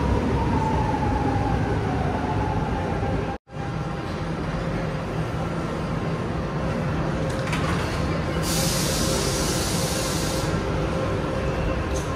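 A train runs through Lisbon with a steady rumbling roar and rail hiss; a brief dropout interrupts it, and a hissing, spray-like burst comes later.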